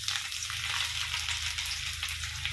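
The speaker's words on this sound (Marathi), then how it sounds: "आता मी जिरे आणि लसूण फोडणी देणार आहे." Cumin seeds and garlic spit and crackle as they hit hot oil for a tempering, giving a dense, even sizzle close by over a low steady hum.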